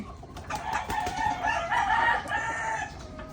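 Chickens in a backyard poultry pen being bathed, with a rooster crowing and hens clucking close by in a steady, busy stretch of bird calls and no talk.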